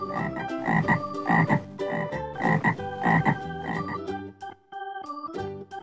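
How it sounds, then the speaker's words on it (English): A cartoon-style frog croaks in a children's counting and English-learning song, a run of rhythmic croaks set against bright musical backing, loud and up close with no talk. "Frog."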